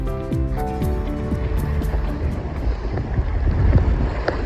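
Steady wind rushing over a sailboat on open water on a fine day, a constant broad roar with faint creaks and knocks from the boat, no talking.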